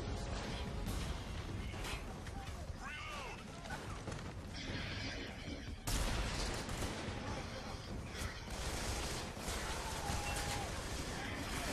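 Gunfire and explosive crashes in the Army of Two: The 40th Day shooter, dense and continuous under a voice, with a sharp loud burst midway and steady combat noise around it.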